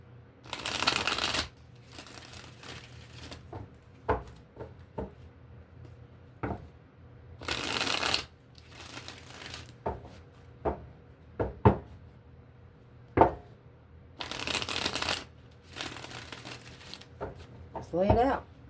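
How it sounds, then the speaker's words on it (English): Tarot cards being shuffled in three long riffling bursts, with soft taps and card handling between them, close and moderately loud. "We're going to do 3 shuffles here."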